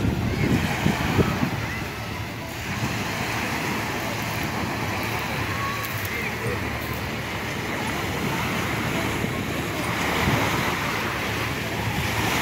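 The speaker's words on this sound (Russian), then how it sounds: "Идемте море послушаем." Sea waves wash onto the shore of an autumn beach near Kemer, Turkey, a continuous rolling surf mixed with gusty wind buffeting the microphone and faint background voices.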